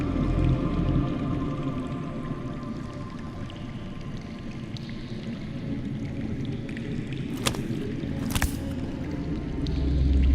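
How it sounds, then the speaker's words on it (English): Underground water trickles and drips in the Game of Thrones Telltale video game, a steady watery wash with two sharp clicks near the end and a low swell in the final second. "That's water. I hear water. From underground."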